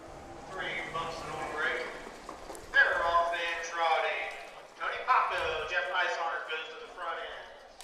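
Trotting harness racing horses break from behind the starting gate at an Ohio county fair, their hoofbeats clopping faintly beneath a race announcer's steady calling.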